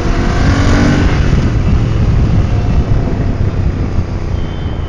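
A Royal Enfield Interceptor 650 motorcycle engine roars loudly and steadily under wide-open throttle while riding, with heavy wind rush over the microphone.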